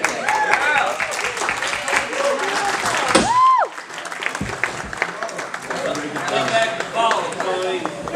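Wedding guests break into dense, steady applause after a reception toast, with the clapping filling the room throughout and voices and a brief sustained tone rising over it partway through.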